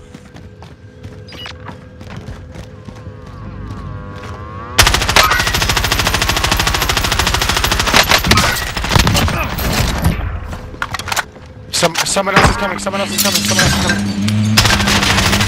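Loud close automatic gunfire in the video game Call of Duty: Modern Warfare, starting after a quieter stretch and continuing in long bursts with brief pauses, while a player speaks briefly.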